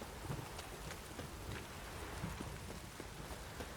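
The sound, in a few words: rain in video game The Witcher 3: Wild Hunt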